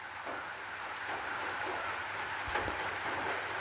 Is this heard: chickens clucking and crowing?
no